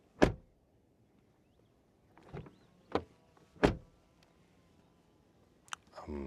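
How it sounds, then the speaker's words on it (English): A 2027 Mercedes GLE redesign has its car doors shut in a quiet setting: a few separate solid thuds with gaps between, each short and fairly close, the last one following a faint click. "Door closing sound."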